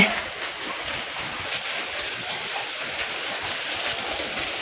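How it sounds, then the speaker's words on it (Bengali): Steady rain falls outdoors in the morning, a continuous even hiss that holds at a constant level from start to end, with no voices over it. "আবার বৃষ্টি শুরু হয়ে গেছে, সকাল দিয়ে বৃষ্টি হচ্ছে।"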